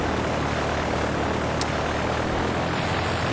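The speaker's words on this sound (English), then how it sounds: "we take off on the plane," Steady, loud broadband roar of a plane taking off in a Pokémon White 2 cutscene, a continuous engine-and-wind rush with no pauses and no talk.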